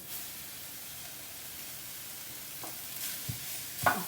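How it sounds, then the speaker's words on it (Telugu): Mushroom and spring onion fried rice with added white rice is stirred in a hot pan over a low flame, giving a steady, faint sizzle with a few spatula scrapes and knocks near the end. "మళ్ళీ మిక్స్ చేసేసుకొని మనం వైట్ రైస్ యాడ్ చేసుకున్నామండి ఇప్పుడు"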